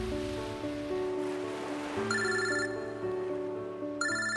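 A telephone ringing in a film trailer, repeated bright electronic rings in short bursts over a soft underlying music bed, fairly quiet and with no voices.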